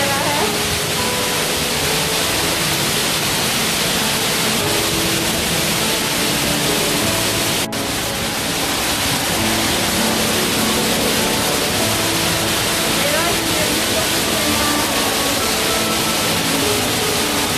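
Water flowing steadily in Singapore Botanic Gardens, a loud continuous rushing wash that stays even throughout with no talking.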